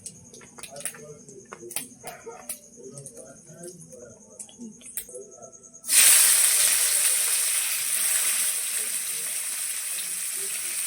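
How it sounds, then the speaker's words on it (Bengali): Quiet room with faint chirps and a voice, then onions drop into hot oil with a sudden loud sizzle that settles into a steady hiss. "পেঁয়াজটা ভাজার জন্য।"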